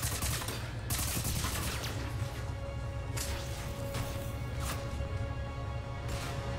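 Sustained gunfire from a Mass Effect 3 battle, dense overlapping bursts and rattling automatic shots that keep up a constant barrage with no pauses.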